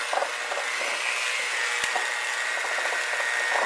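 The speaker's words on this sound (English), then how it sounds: "And I'm just going to mix this with a mixer," A handheld electric mixer runs continuously through red velvet cookie batter, a steady bright whirring drone up close with no talk over it.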